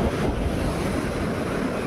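Sea waves surge against a coastal seawall ahead of a typhoon in Central Visayas, a continuous loud roar of surf mixed with heavy wind buffeting the microphone, with no talking.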